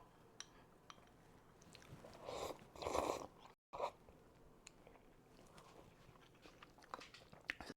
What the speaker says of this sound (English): you can just probably hear me slurping away